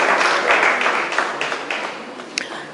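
An audience at a calypso event in San Fernando applauds with a dense, fairly loud patter of many hands clapping that tapers off slightly over a few seconds.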